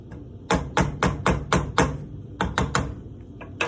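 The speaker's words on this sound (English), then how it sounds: "I always like to stir my rice once and then cook it a little bit longer." A utensil stirs rice in a cooking pot, making a run of loud, sharp taps and knocks against the pot in an uneven rhythm, close up and with no talking.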